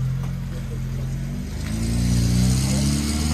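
A low-budget Russian Lada drift car's engine runs with a steady, close, droning hum that swells as the revs rise partway through, loud and continuous throughout.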